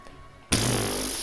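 A voice imitates a lawnmower with a sudden, loud, sustained buzzing drone that starts abruptly and holds steady for under a second.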